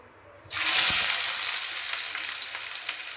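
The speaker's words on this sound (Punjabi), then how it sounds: "ਤੇਲ ਆਪਣਾ ਚੰਗੀ ਤਰ੍ਹਾਂ ਗਰਮ ਹੋ ਚੁੱਕਿਆ ਹੁਣ ਪਾਵਾਂਗੇ ਇਹਦੇ ਵਿੱਚ ਆਪਾਂ ਪਿਆਜ਼" Chopped onions drop into hot mustard oil for a masala macaroni with a sudden loud hiss that settles into a steady, close sizzle, with a few small pops and crackles and no speech.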